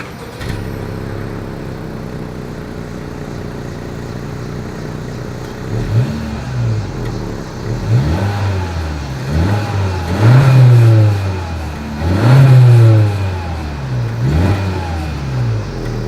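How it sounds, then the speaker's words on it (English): A 2020 Honda Civic Hatchback with a dual exhaust outlet setup idles steadily, then gets several sharp revs in succession, the exhaust note rising and falling loudly from close by with no talking. "As always, here is that exhaust clip."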